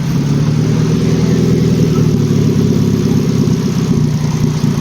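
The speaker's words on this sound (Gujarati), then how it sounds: "ચલો ગાડી થઈ ગઈ છે ચાલુ ભાઈ" An overhauled 1.2-litre Hyundai i10 engine idles steadily and loudly at close range, an even low rumble with a faint rhythmic pulse and no talking throughout.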